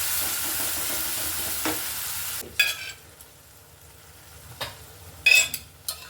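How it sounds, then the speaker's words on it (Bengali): Dal paneer being stirred with a ladle in a hot pan, a steady frying sizzle for the first couple of seconds, then quieter stretches broken by a few sharp scrapes and clinks of the ladle against the metal. "এরকম করে হাতা দিয়ে একটু নেড়ে নেবো"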